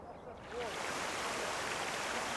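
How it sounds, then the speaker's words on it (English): Released water rushes out in a loud, steady broadband roar that begins abruptly about half a second in and holds without a break, with a faint voice at the very start. "Oh, let the water go."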